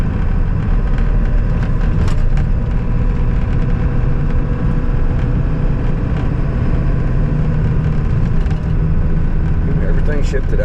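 A 1996 Ford F250 with a 7.3 Powerstroke diesel on worn tires driving and shifting through its gears, a loud steady engine rumble and road noise heard from inside the cab, with someone talking over it.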